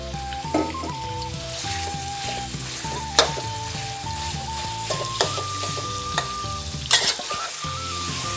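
Steady crackling sizzle of protein frying in hot oil for pad Thai, with occasional clinks of a utensil against the pan and faint background music.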